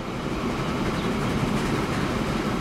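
A train in the Transport Fever video game rumbles along in a steady, continuous roar of rail noise with no talk over it.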